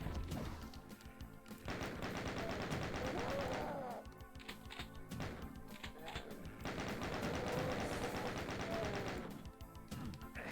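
Video game gunfire comes in two long, fast automatic bursts with a short pause between them, rattling steadily at a fairly low level.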